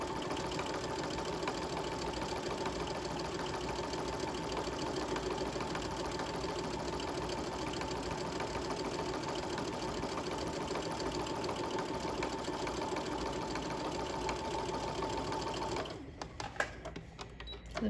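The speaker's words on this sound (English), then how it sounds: "I'm going to go to the 1/2 inch and do another basting stitch there" A sewing machine running a long basting stitch in fabric for gathers, a continuous rapid mechanical whirr that holds steady, then stops near the end with a few clicks and handling noises.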